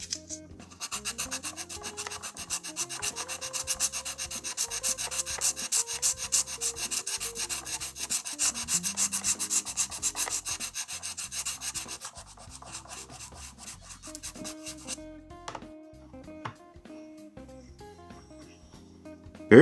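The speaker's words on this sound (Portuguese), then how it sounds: "O legal é que você nunca vai lixar demais o traste porque ela limita" A Fretalizer leveling tool sands guitar frets in rapid rhythmic back-and-forth rasping strokes, close and steady for about twelve seconds, then a few sparser scrapes and taps follow.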